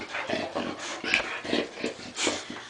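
Puppies whimper and yip in a run of short, fairly close high-pitched cries that come in repeated bursts, with no talking.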